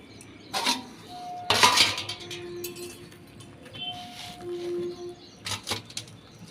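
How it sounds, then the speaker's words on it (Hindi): Dishes, pots and steel utensils are washed at home, with sharp clinks and clanks in irregular bursts, a couple of louder clatters, short water splashes and a faint high tone in between. "तो चलो पहले बर्तन धो लेती हूँ, फिर मंदिर की करूँगी साफ़ सफाई।"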